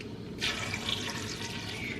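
Water runs from a tap into a cup for making cranberry sauce, a steady close splashing stream lasting a couple of seconds in a quiet kitchen.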